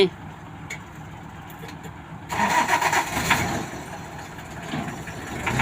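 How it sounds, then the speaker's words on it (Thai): A small road roller's engine, used for road repair work, turns over after a quieter stretch and then runs with a rough, rattling clatter, close and loud, with a voice faintly present. "เครื่องฟิตสตาร์ตติดง่ายครับ"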